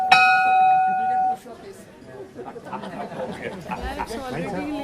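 A bell rings out clearly with a sustained, shimmering tone, then gives way to a room of chatter and light laughter.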